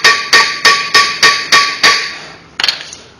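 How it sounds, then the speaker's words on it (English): A hammer taps a brake rotor on a 2006–2012 Mercedes Sprinter van: seven evenly spaced, sharp metallic knocks ring close and loud, followed by a quicker, softer rattle of small hits. "You can give it a slight little tap."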